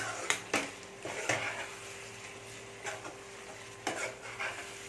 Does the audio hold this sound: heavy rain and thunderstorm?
no